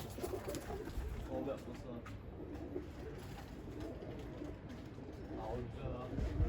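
Pigeons cooing softly in the background, mixed with outdoor rustle and a voice talking over them.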